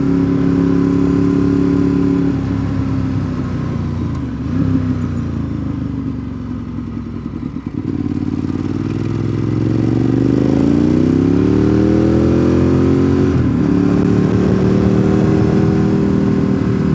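A red motorcycle rides along a slow mountain road in Georgia, its engine note rising and falling through gear changes, loud and close, with no voices over the steady drone.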